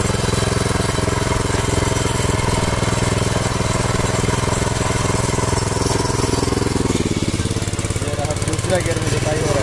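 A mini power tiller engine runs in gear while tilling soil, a loud, steady, close mechanical drone with dense rattling that holds without a break, easing only slightly near the end.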